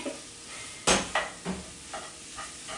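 Vegan meat hits a hot pan with a sharp burst of sizzle, followed by a few softer stirring scrapes and crackles that fade in intensity.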